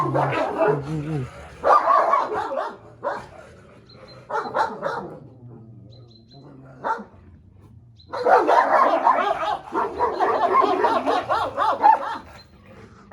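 A dog barks in loud, repeated bursts with short pauses between volleys, close by, interspersed with some yips.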